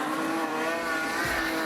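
Super street sedan race cars run on a speedway, a continuous loud engine roar with a steady drone and rising pitch as the cars accelerate out of a turn, heard from trackside.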